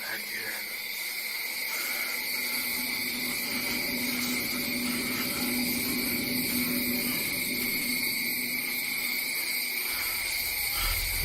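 Steady, shrill insect chirring from crickets fills the whole stretch beside a small shack at night, several constant high bands droning without pause over faint low rumble and no clear talk.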